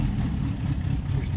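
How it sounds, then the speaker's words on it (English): An MG TD's engine runs just after starting, settling into a steady low idle heard close and alone. "Hit the start button. Fires right up."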